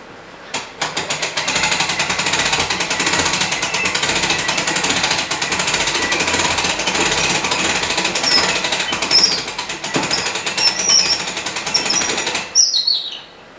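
A hand-cranked hoist winch lifts the hard top off a 2011 Jeep Rubicon, producing a loud, continuous rapid ratcheting clatter close by that stops abruptly near the end.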